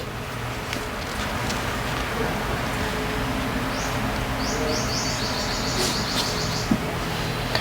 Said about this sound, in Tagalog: naririnig ko na naman yung mga ibon dyan sa puno ng mangga